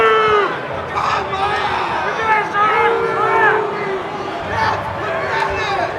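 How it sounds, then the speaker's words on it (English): A combat sports crowd at an MCFC fight event jeers and talks back at a decision, with loud voices shouting over a dense, continuous hubbub close by. "And the crowd, not necessarily the biggest fan of the decision. We hear a lot of talk back."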